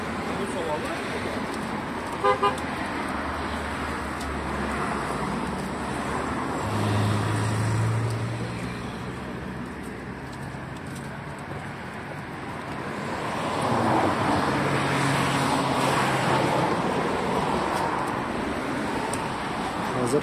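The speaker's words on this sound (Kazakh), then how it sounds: "мына көліктерден бәлкім жақсы естілмей жатырған шығар" Road traffic in Tashkent, a steady wash of passing cars with swelling engine noise and a brief horn toot, heard from nearby with a voice talking over it.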